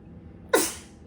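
A single short sneeze bursts out against a quiet background, close and fairly loud, fading quickly.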